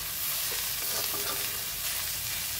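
Onions sauté in a pan, turning color, with a dense continuous sizzle and light stirring strokes throughout, close and even in loudness, without talk.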